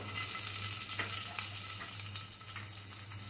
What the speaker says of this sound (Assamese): এতিয়া আমি বাকী থকা তেলখিনিতে জলকীয়াখিনি বহাই দিছোঁ